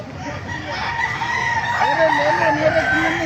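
Roosters crow repeatedly among other fowl at a gamefowl market in Baliuag, Bulacan, their loud rising and falling calls overlapping with steady crowd murmur throughout.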